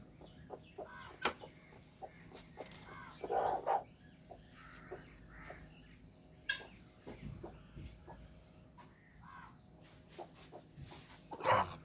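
A brooding hen settled on a clutch of sixteen eggs gives soft, scattered clucks and low murmurs, with a few louder bursts, fairly close and free of talk.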